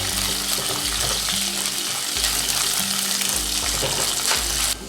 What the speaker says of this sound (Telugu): అల్లం ముక్కలు వేగిన తర్వాత రెండు మూడు పచ్చిమిర్చి ముక్కలు చేసుకొని వేసుకోవాలి